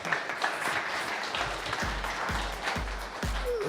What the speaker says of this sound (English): Can we hear a bigger round of applause for him?